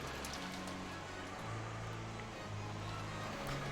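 Steady rain pours with gusting wind in the game Umineko, a dense, continuous wash of falling water beneath a low humming drone, holding level throughout.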